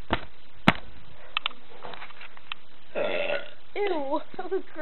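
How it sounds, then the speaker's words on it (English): A person burps loudly in a long guttural belch with a warbling tone, following scattered handling knocks and a sharp camera bump, close to the microphone. "Let's play and see if it heard me burping."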